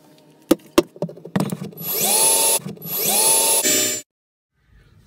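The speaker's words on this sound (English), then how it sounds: "now I need to drill another hole right there" A power drill bores a hole into a Jayco travel trailer for solar panel wiring, two loud sustained whirring bursts of about a second each after a few handling knocks, close up and without talk.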